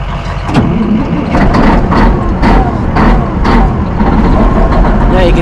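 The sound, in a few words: motorcycle engine starting and warming up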